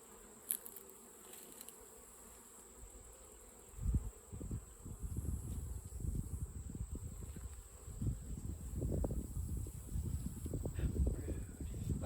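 Honey bees buzz steadily around an open beehive during an inspection with Apivar strips being pulled and feeding, a dense droning swarm close by that swells and grows busier after the first few seconds, with no talking.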